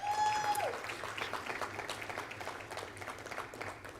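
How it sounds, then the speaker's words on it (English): Conference audience applauding a panelist at a tech week event, a steady wash of clapping from a sizable crowd that carries on evenly, with a brief tone at the start and faint voices underneath. "if we can give her a round of applause as well."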